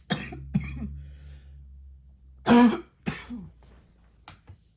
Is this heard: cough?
yes